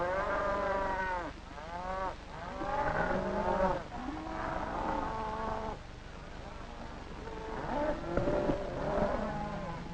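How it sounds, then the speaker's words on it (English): Cattle belonging to Fulani nomads in northern Nigeria low repeatedly, several drawn-out moos close together and fairly near, over a faint steady hum. "Fulani nomads and their herds fill even the remotest and most inhospitable corners of Nigeria"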